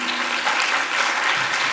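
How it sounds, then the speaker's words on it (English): A conference audience applauds panelists on gender-based violence in academia, giving a dense, steady roar of clapping that fills the whole moment at even loudness, with no voices over it. "please give them a round of applause"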